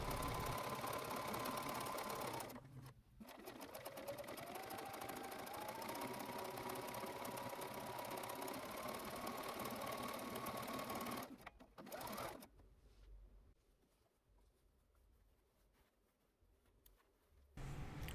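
A sewing machine stitches the back seam on the head and body of a fabric puppet. It runs as a steady mechanical whir for several seconds, pauses briefly, runs again, and then stops into quiet.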